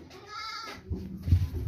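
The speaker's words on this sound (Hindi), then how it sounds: "बिल्कुल ज़बरदस्त बकरी है।" A healthy goat gives one close, clear bleat, followed by low rustling and handling noises nearby.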